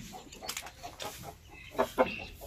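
A native hen brooding without eggs gives a few soft, short clucks, fairly faint, over a quiet farmyard background.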